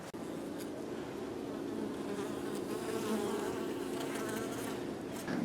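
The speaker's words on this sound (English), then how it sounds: "The bees don't look too huge in population, but we'll see how that goes." Honeybees buzz steadily around hives tucked into the soffit of a double-wide home, a soft continuous hum with individual bees drifting close now and then.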